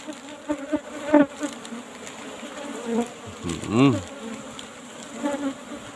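Wild bees buzz steadily around a tree-cavity nest outdoors, with an individual insect now and then droning closer. Faint voices and rustling can be heard underneath.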